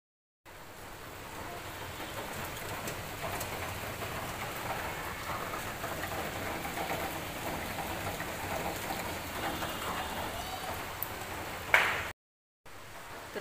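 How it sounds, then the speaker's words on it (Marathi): Heavy monsoon rain pours steadily in Mumbai, a dense and constant hiss of drops on surfaces with no letup. It is moderately loud and heard on its own until it stops abruptly near the end. "बघितलं का आज मुंबईमध्ये किती पाऊस आहे."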